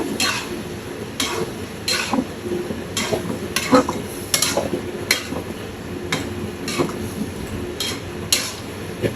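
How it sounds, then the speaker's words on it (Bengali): Fish frying in oil seasoned with chili powder while a utensil is stirred through it, giving repeated scraping strokes at a steady rhythm over a constant soft sizzle, close and moderately loud, with no talking. "এখন ভেজে নিব আর একটু ভেজে নিব"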